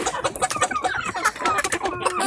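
Loud, dense clucking and chirping from several young chickens at close range, overlapping continuously without a pause.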